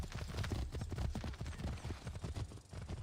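Horse hooves clopping in the video game Assassin's Creed 3: a steady, loud run of quick hoofbeats in a close, continuous gallop with little else over it.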